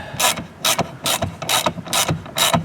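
Ratchet handle and socket driving 6.3 by 20 screws partway in during a 2023-2024 Acura RDX accessory install, six quick bursts of close, crisp clicking separated by short pauses, no talk.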